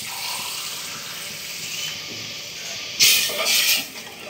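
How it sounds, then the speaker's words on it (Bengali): Hot jaggery and fried rice sizzle steadily in a pan, then water is poured in and sets off a sudden loud hissing burst that fades back to a softer sizzle. "এরপর পানি দিয়ে দিলাম।"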